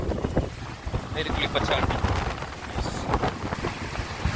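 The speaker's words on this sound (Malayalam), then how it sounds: "ഭയങ്കര കാറ്റ്, മഴയും പെയ്യും." Strong wind gusting outdoors before rain, buffeting the microphone in rough, uneven roars while someone speaks briefly.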